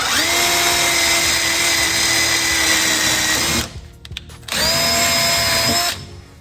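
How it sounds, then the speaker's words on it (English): A power drill whirs at high speed in two long bursts drilling holes in a Nissan 240SX interior, pausing briefly between them, loud and close with a steady whine. "I actually gotta drill these holes really fast"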